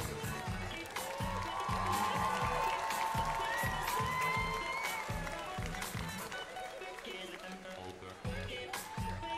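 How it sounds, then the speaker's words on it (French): A large audience at a Japan Expo cosplay show cheers, whistles and claps for the Belgian cosplayers, with sustained crowd noise and a pulsing rhythmic beat underneath. "Faites-moi du bruit pour notre chère Belgique"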